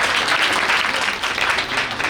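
A crowd claps steadily at a retirement farewell party, dense continuous applause filling the room, close and loud for a couple of seconds.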